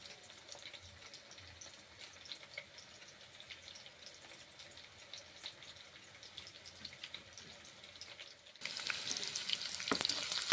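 Onions fry in a pan for a bottle gourd dish, giving a faint, steady sizzle with soft scraping from stirring that grows louder near the end.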